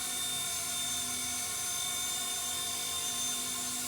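Repaired MD500 helicopter, apparently a model, in flight with a steady high-pitched motor whine and rotor drone holding constant and fairly close throughout.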